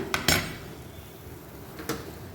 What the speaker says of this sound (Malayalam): ഒരു ചട്ടി അടുപ്പത്ത് വെച്ചു.